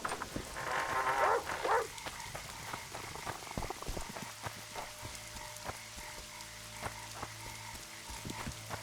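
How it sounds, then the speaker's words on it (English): Rain falls in The Witcher 2: Assassins of Kings as a faint, steady patter of drops with scattered brief ticks and a short croaking burst near the start, with no talk. "Sorcerers summoned this rain."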